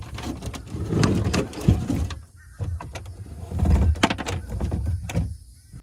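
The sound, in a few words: boat steering wheel being wound to feed steering cable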